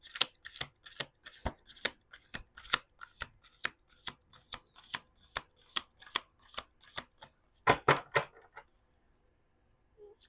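A deck of tarot cards shuffled repeatedly, a steady run of crisp riffling flicks, close and clear, ending with a brief flurry and then quiet.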